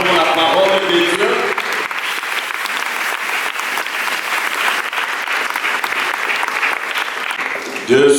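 A church congregation claps loudly and steadily during a sermon, the dense applause filling the space for about eight seconds before breaking off near the end, with a voice speaking over the first moments.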